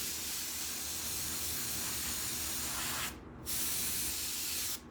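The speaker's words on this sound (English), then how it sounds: "Then I will spray it with a sealer" A steady, continuous spray hiss from an aerosol can of fabric sealer sprayed onto an airbrushed hoodie, held for several seconds with two brief pauses near the end.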